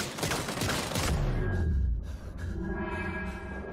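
Bursts of rapid gunfire crackle in the video game Get Even, a dense volley in the opening second followed by a trailing low rumble and ringing tones as the shooting dies away.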